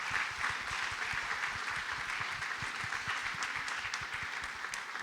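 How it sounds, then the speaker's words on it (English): Audience applause at a Chicago innovation gala, a steady wash of many hands clapping with a moderate, sustained level throughout, slightly distant in a large room, and no speech over it. "We really do applaud you all."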